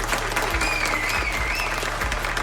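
Short burst of crowd applause at an event presenting a rap performer, clapping mixed with a whistle and some background bass, fairly close.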